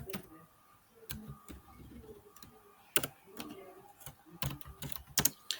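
Keys clatter on a computer keyboard in irregular bursts of quiet clicks, with a few louder taps, close and faint in a quiet room.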